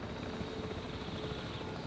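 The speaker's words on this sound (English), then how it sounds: "Oh, the helicopter's back." A helicopter returning in the video game Jurassic World Evolution 3, a steady low rotor drone that stays fairly faint and even throughout, with no talk over it.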